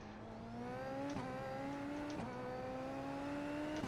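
A Super Formula open-wheel racer in the iRacing sim on the Nordschleife drones with a rising, buzzy engine note as the throttle is feathered toward a tight turn, broken by brief shift-like blips, alone and fairly quiet.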